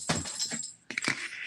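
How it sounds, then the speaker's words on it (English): A pet dog playing with her toy somewhere in the background of a room, two short bursts of rattling, clattering knocks with a brief pause between them, faint and fairly distant. "that is the dog. She's playing with her toy."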